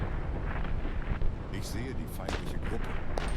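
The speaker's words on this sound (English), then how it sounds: "Oh, we are taking fire." Gunfire crackles in the Battle of Kollantai war game, repeated sharp reports over a dense rumbling battlefield bed, with voices talking throughout.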